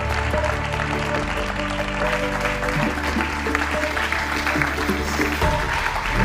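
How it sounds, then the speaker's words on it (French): Sustained, dense applause from an audience welcoming the finalists of an eloquence contest final in Paris, loud and steady throughout, with music or voices faintly mixed underneath. "on les accueille encore sous vos applaudissements"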